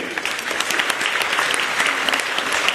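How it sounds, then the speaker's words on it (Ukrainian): Sustained audience applause fills a choir's thirtieth-anniversary concert, a dense, steady wash of many hands clapping at close range with no pause. "Оплески."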